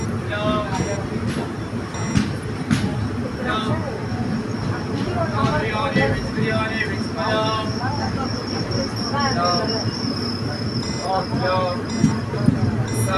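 An Indian Railways passenger train travelling at speed between Hubballi and Davanagere, its steady rumbling rail noise continuous from inside the coach while people talk over it throughout.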